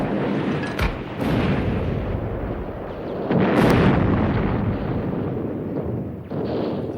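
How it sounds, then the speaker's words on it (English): A D-Day battle sound effect of mortars and rifles: a continuous roar of combat with several heavy, booming blasts and sharp cracks, the loudest burst near the middle, all fairly loud and without voices. "It was just mortars and rifles."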